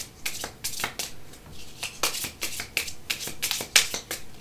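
A deck of cards being shuffled by hand, close and crisp, with a rapid series of riffling and snapping bursts repeating throughout.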